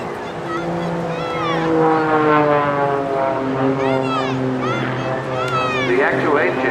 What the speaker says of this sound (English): when you're going into the vertical, then you can hear the jets coming in